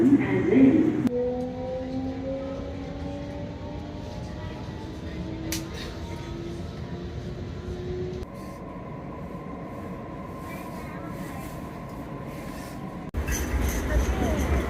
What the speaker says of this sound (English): Check out this train